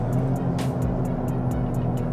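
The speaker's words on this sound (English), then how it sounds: "I think the exhaust note's about the same" Steady exhaust drone from a Toyota GR Corolla with an automatic transmission while driving, a continuous low engine hum inside the cabin, even and unbroken with no talk.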